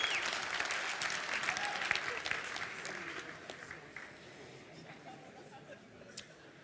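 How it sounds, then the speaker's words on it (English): A conference audience at SmashingConf Antwerp applauds in a dense, sustained burst of many hands that gradually thins and fades toward the end, with a little crowd chatter underneath. "Give yourself a big round of applause."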